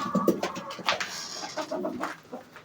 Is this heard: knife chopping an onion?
no